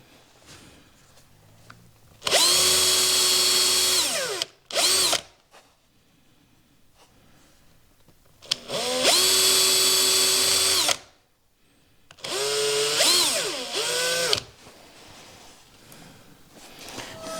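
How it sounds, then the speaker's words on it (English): A power drill whirs through wood while making a wooden hinged business card box, in three sustained bursts, with short pauses and a brief blip between, loud and close. "You don't want that drill to wander at all."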